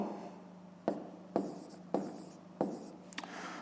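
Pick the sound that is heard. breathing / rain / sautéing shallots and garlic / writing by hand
writing by hand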